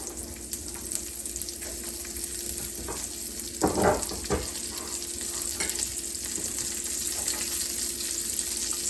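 Julienned onions fry in a pan for a Cajun-Asian stir fry, a constant near sizzle with a short burst of louder clattering stirring partway through.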